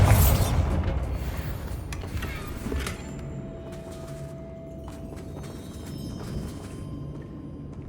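Bombarda blasting spell explosion in the Hogwarts Legacy video game: a heavy booming impact at the start that rumbles and decays over several seconds, followed by scattered creaks and rattling debris and faint mechanical sounds, with no voices.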